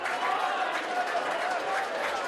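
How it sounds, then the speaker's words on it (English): Crowd at a rugby league match between Featherstone and Leigh applauds steadily as two players leave the pitch, a dense wash of clapping from the stands, with a commentator's voice faintly underneath. "Round of applause beneath us for Andy Bostock."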